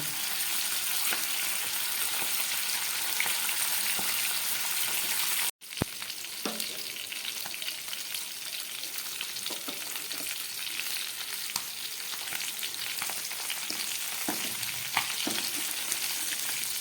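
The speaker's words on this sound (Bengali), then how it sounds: "আরেক পিঠ ভাজা হয়ে যাক, তারপরে তুলব।" Fish fries in hot oil in a pan while being turned to cook the other side. A loud, continuous crackling sizzle is heard up close, broken only by a brief dropout partway through.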